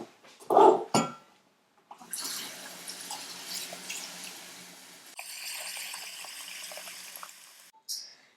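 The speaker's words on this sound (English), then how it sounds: "And fill it with water just until it covers the ox bones." Tap water running steadily into a pot of ox bones for soup, a close, continuous pouring wash that shifts pitch partway through as the pot fills, with a brief bark-like knock at the start and no talking.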